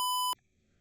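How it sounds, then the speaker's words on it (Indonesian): An IoT room temperature monitoring alarm gives a single loud, clean electronic beep, sharply cut off, followed by a short second blip and quiet. "jika suhu ini lebih dari 30, maka alarmnya akan berbunyi"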